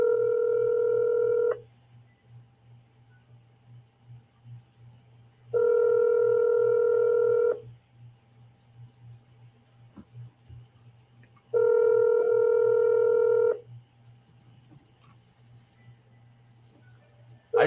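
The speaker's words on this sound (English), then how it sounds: "I just hope someone answers the phone for Dante" An outgoing telephone call rings through the handset: three long, steady ringback tones spaced evenly about six seconds apart, with quiet line hum between them and no voices.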